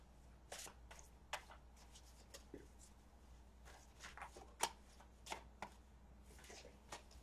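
Tarot cards are shuffled close by at low volume, with soft riffling bursts and sharp taps spaced irregularly over a quiet room.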